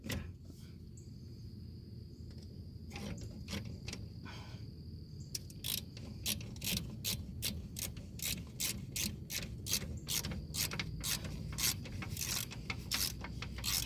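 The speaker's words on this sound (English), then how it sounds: "I'll have to put the bolt like halfway back in so I can get my ratchet off" A ratchet wrench turns a bolt on a 1983 Chevy K5, giving rapid clicking strokes in quick bursts, sparse at first and then a long steady run of close, sharp ratcheting clicks with no talking.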